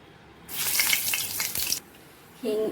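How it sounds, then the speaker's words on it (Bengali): Whole cumin seeds dropped into hot mustard oil burst into a loud, close sizzle that crackles for about a second and then cuts off sharply, followed by a short separate tonal sound. "তো এর মধ্যে আমি একটা ফোড়ন দেবো। ফোড়নটা হয়েছে জিরা, আস্ত জিরা দিয়ে দেবো।"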